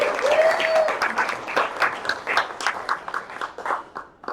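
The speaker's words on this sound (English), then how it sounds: "let's do a round of applause for our friend" A round of applause from the audience at a Nerd Nite Austin talk: dense, lively clapping that carries on for several seconds, then thins toward the end, with no voices over it.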